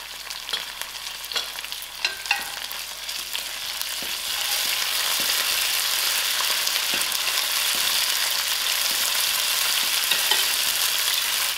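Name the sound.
mustard seed, ginger and garlic frying in pan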